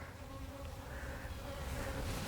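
Honey bees buzz steadily around brood and egg frames being moved into a five-frame nuc box, a dense close hum that holds throughout and swells slightly toward the end.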